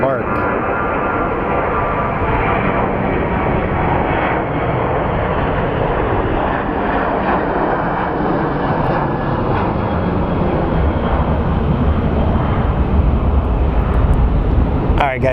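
United airliner taxiing at Phoenix Sky Harbor airport, a steady broad engine roar that holds constant throughout, with a voice talking over it.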